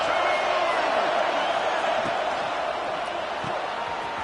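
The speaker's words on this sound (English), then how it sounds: "And here comes the noise. This crowd is trying to inspire this defense to make a big red zone stop." Stadium crowd at a college football game roars steadily to spur the defense before a red zone play, a dense, continuous wall of massed voices with occasional thuds, loud throughout.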